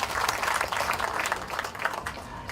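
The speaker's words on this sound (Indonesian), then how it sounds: "Kita beri tepuk tangan untuk Pak Kobalen." An audience claps together at a ceremony marking the building of a Hindu house of worship, a dense, sustained burst of applause filling the whole moment with no voice over it.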